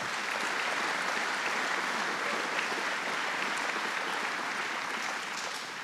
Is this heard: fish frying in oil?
no